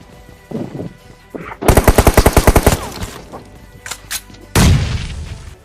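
Shooting video game combat with grenades thrown all around: a sharp opening pop, then a rapid burst of about ten loud automatic gunshots, scattered softer shots, and a heavy explosion near the end.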